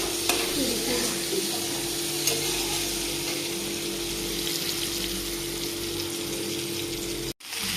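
Pointed gourd pieces sizzle steadily in a hot pan, a continuous crackling fry close by with a soft hum underneath.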